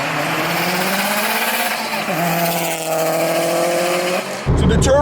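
A tuned 500hp 2008 Subaru WRX with an FP Green HTZ turbo accelerates hard, its engine note climbing steadily, dipping briefly at a shift, then rising again before a sharp burst of noise at the end.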